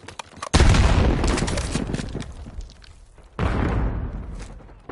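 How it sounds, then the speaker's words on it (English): A grenade explodes amid gunfire in Black Ops 6: two loud, close booms, each trailing off in a long rumbling decay, with scattered shots between them. "Grenade going out."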